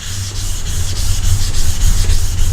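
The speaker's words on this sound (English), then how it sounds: "I'm gonna just help it along with a diamond stone." A Hock plane blade rubbed on the 400 side of an Atoma diamond stone to raise a light slurry gives a close, steady gritty scrape in quick rhythmic back-and-forth strokes.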